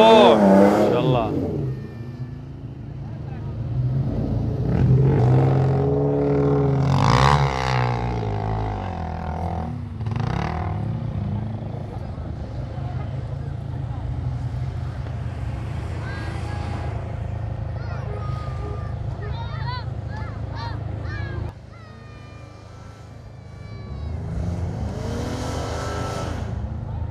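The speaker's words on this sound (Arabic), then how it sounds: "هذا الرانجلر ماكينة قديمة، شوية يختلف" An old-engined Jeep Wrangler climbs a sand dune, its engine revving and straining loudly up close, rising and falling as the throttle changes, with people talking over it throughout.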